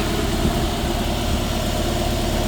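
A 2005 Honda S2000 2.2-liter four-cylinder that revs to 8,000 RPM, with a fuel system upgrade and a K&N intake, idles steadily and close with the hood up.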